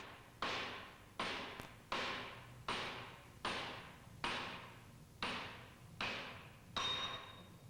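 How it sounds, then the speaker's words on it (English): Nine evenly spaced taps of a plastic hammer on the bearing case of a Mitsubishi Selfjector purifier drive shaft, each a sharp knock with a brief ringing decay. "Tap the bearing case carefully with a plastic hammer to prevent damage"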